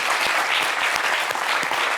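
Dense applause from a TV studio audience, clapping steadily and loudly throughout, with no talk over it.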